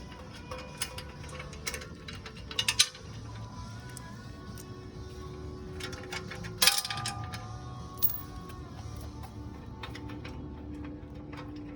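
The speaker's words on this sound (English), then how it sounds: "What you want to do is slide towards the other sprocket, which is holding the chain. You should be able to move the chain off and lift the entire drum up." Chain and sprocket on a Hannay electric reel drum being moved by hand, giving scattered light metallic clicks, ticks and rattles with a couple of sharper clanks, heard up close over a steady room hum.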